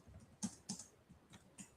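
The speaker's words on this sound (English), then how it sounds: "trying to type and talk at the same" Faint, close computer keyboard typing, a few scattered key clicks in uneven rhythm with no talk over them.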